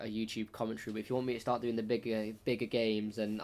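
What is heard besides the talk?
No distinct noise like a dog, phone or traffic.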